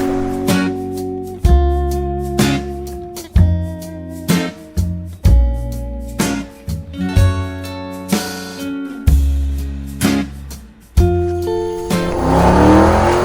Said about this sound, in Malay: Ada kereta nak lalu.